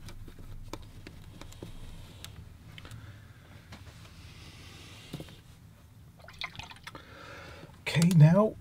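Water trickles and drips as a watercolor palette and brush are rinsed, with scattered small taps and drips and a louder splash of water near the end.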